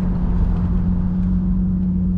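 A BMW E36 engine idles steadily, a close, loud, low rumbling drone holding even for the whole stretch with no talking.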